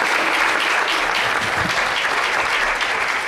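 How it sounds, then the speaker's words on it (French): A conference audience applauds in a steady, dense wash of clapping that stays loud and even throughout. "vous faites bien les applaudir"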